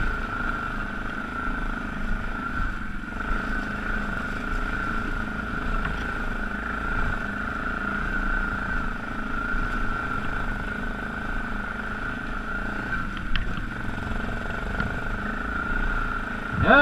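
A Yamaha Grizzly 660 ATV rides a frozen, muddy trail, its engine holding a steady, close drone at even throttle throughout, with only small swells and no voices.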